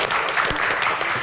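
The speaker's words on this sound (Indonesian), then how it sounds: "Tepuk tangan untuk Vicky Prasetyo." Studio audience applause for a guest on a televised Q&A talk show, a brief, dense burst of clapping at steady volume.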